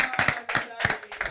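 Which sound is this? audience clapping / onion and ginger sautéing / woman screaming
audience clapping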